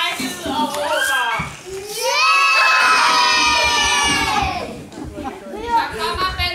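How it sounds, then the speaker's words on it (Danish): Children at play shout and shriek in mock fright, several overlapping voices rising into a loud sustained scream before dropping back to excited chatter. "Prinsesserne bliver forskrækket og råber."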